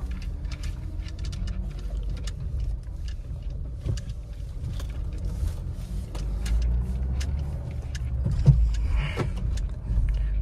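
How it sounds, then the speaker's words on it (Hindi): A Mahindra Scorpio N Z2 petrol SUV with a manual gearbox pulls out of a petrol pump, its engine rumbling steadily from inside the cabin along with road noise and small rattles and clicks. "तो एक बार बस पेट्रोल पंप से निकल के गाड़ी लगाते हैं पहले साइड में"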